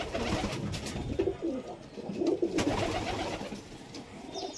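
Red jiriya pigeons cooing softly among a low, busy background, throaty murmuring coos rising and falling throughout, fairly faint.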